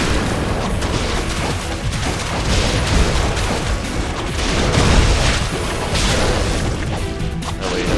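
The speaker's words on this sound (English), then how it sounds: "use our litany of incendiary shurikens. And just blow them to bits" Continuous loud explosive blasts and crashes from incendiary shurikens in Ninja Gaiden II, with repeated booms swelling and overlapping across the whole stretch and no pause between them.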